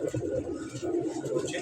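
Breeder pigeons coo nearby in a continuous low, rolling murmur that stays steady and fairly loud throughout.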